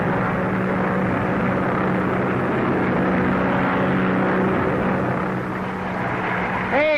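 A 1930s private airplane drones steadily overhead, a continuous loud engine rumble that holds throughout with a slight swell near the end.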